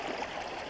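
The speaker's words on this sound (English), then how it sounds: "It's cool, the water running underneath the ice." Water running beneath ice on a frozen pond outlet in winter, a faint, steady trickling gurgle heard briefly and close by.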